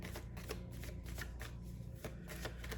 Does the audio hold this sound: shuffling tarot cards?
yes